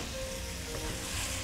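Tender meat fries in a pan with a steady, close, broadband sizzle that holds evenly throughout the short moment, with no talk over it.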